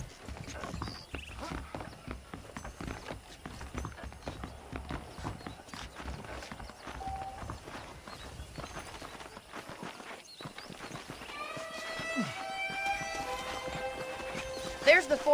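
A horse's hooves clip-clop steadily at a walking pace in Red Dead Redemption, a Western game set on a ranch, with the even beats continuing throughout as someone speaks over them, followed by brief tonal sounds near the end.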